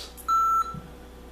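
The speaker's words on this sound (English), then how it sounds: "I don't know why this thing's beeping" A single clear electronic beep sounds for about a third of a second, loud and close, in an otherwise quiet room.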